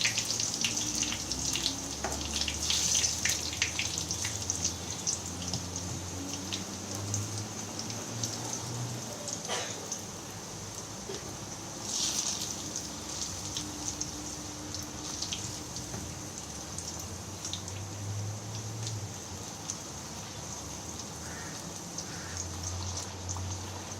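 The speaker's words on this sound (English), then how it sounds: "dip it evenly so that it gets coated in the batter, and drop it into the hot oil" A battered spinach leaf frying in hot oil, giving a steady soft sizzling hiss with crackling pops that carries on evenly throughout.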